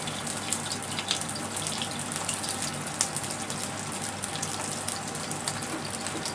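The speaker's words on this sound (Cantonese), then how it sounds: "我哋條魚咧都係繼續中細火咁樣去煎佢啦。" A yellow croaker fish fries in a pan over medium-low heat, giving a steady, close, hissing sizzle with scattered small crackles throughout.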